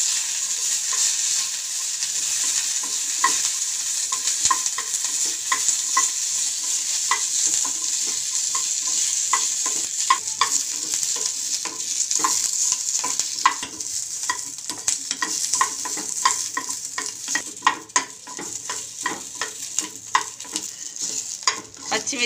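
Green chillies frying in a spoonful of oil in a pan, a continuous close hiss with frequent sharp pops and crackles and occasional stirring scrapes, no talking.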